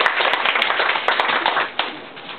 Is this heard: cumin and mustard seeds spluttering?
no